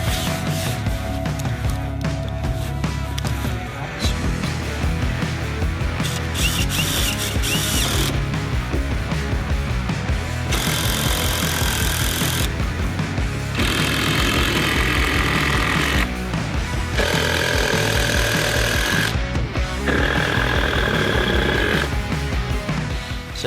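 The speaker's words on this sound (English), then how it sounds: "Can you help me screw this together, Tuck?" A cordless drill drives screws to fasten Nudura ICF foam blocks together during home construction, its motor whirring in repeated bursts with rising and falling pitch, close and loud amid continuous jobsite clatter.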